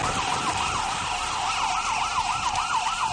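An ambulance siren wails continuously in a rising and falling cycle at a highway toll station, loud and close, with traffic rumble underneath and no voices.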